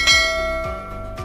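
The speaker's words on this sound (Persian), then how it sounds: "زنگوله را فشار بتین تا ویدیوی بعدی مستقیم نوتیفیکیشن یا اعلان" A bright bell chime rings out clearly, then quickly rings again in lighter repeated strikes with a shimmering decay, like a short notification bell effect.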